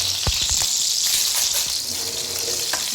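Hot sizzling hiss of crushed spices roasting in a pan for kalvan masala, a steady bright crackle with a few low knocks and clatters near the start.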